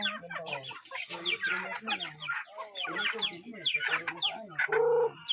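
Several hens cluck and chatter continuously close by, overlapping calls in a busy flock, with a louder squawk near the end.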